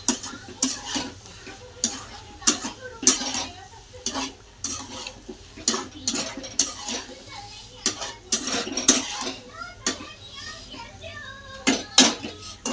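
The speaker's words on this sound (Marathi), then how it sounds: "बघा भाजी मस्त आता हलवून घेते" A spoon scrapes and stirs dry brinjal and potato sabzi with coriander in a pan, giving repeated close clinks and scrapes over a light sizzle. A voice talks at times.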